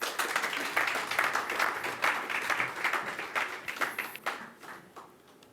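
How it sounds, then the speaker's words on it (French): Applause from the audience at a paranormal mentalist stage show, a dense patter of many hands clapping steadily for several seconds and then thinning out toward the end. "On applaudit Marie."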